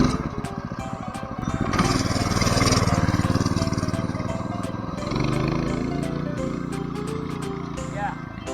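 A home-built vehicle powered by a 212 pressure washer motor drives nearby, its small single-cylinder engine buzzing steadily and rising as it pulls away, with voices talking over it.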